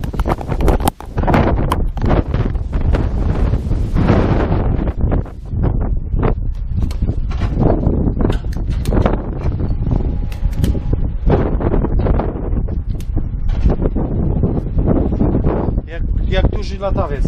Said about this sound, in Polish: Jest taki wiatr